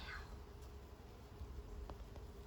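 A honey bee buzzes faintly near the hive outdoors, a soft continuous insect drone lasting a couple of seconds with no voices.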